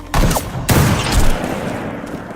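Two loud sniper rifle gunshots a fraction of a second apart, each a sharp crack with a rolling echo trailing off behind it.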